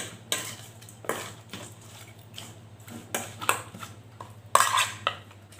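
Spoon stirring a gourami fish marinade thinned with a little water in a bowl, giving a run of close, irregular clinks and scrapes against the dish, with no talking.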